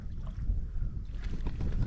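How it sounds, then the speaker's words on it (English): Wind buffets the microphone in a low, continuous rumble while water laps around a small pack raft on a Scottish loch; no voices are heard. "A wee bit windy for the pack raft, fighting against it"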